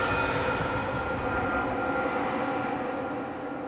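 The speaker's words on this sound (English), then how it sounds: "Just as the train rounded the bend, the engineer got the message and pulled the brake lever." A train rounding a bend as its brakes are applied: a loud, dense, steady rumble and rolling roar that holds throughout, easing slightly toward the end.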